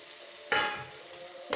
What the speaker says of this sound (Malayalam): ഇനി പിഴിഞ്ഞ് വെച്ചിരിക്കുന്ന സോയ അങ്ങോട്ട് ഇടാം.